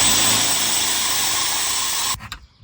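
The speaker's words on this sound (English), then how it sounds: "go ahead and drill that out" Power drill drilling out the fasteners on a storm door, a loud continuous grinding whine that stops abruptly near the end, followed by a few faint clunks.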